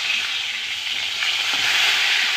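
Pieces of salted, turmeric-coated rohu fish crackle loudly in hot oil as they are turned over, a dense close-up sizzle with a brief clatter midway.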